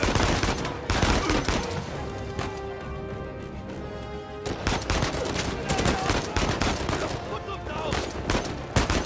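Dense in-game gunfire from Uncharted 4, rapid overlapping shots and bursts filling the scene loudly, with a brief lull midway before firing resumes.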